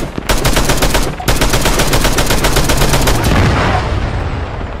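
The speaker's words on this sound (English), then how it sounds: "I hear someone shooting" Automatic gunfire in Arma 3 on the Malden map, loud rapid bursts of shots rattling continuously, briefly broken then resuming, with a dense roar and no talk over it.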